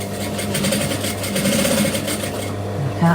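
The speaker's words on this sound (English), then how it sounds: "I'm going to put that to the leather and I'm going to stitch round" Sewing machine stitching leather on a work desk, a steady close mechanical chatter running almost throughout, stopping briefly near the end, with no voices.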